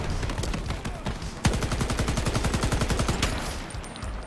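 Burst-fire gunshots in the competitive shooter Shatterline, rapid evenly spaced rounds in several close, loud bursts with brief gaps between them and no voices.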